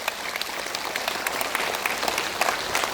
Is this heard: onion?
no